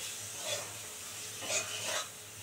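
Bhetki fish fat hisses and is stirred in a pan for chachchari, a soft, quiet sizzle with a few gentle scraping swells.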